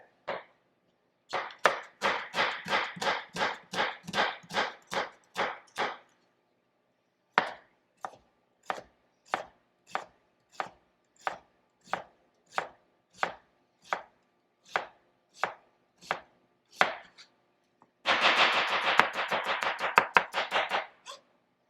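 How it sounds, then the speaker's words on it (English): A knife chops onions on a cutting board in rapid bursts of crisp, evenly spaced strokes, pausing into slower single cuts before a final fast flurry, close and alone without talk. "Just like that, your onions are cut."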